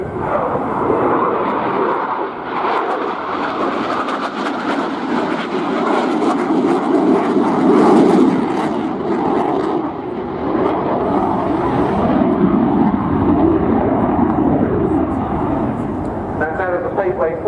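Eurofighter Typhoon Tranche 2 fighter jet at the RIAT 2016 airshow, a loud, continuous roaring engine rumble that swells and holds steady throughout, with voices faintly mixed in beneath.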